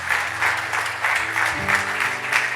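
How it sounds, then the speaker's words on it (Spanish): Church congregation applauding together after a sermon, a steady wash of clapping with a sustained organ or keyboard chord held underneath throughout. "Den un aplauso fuerte al Señor esta mañana."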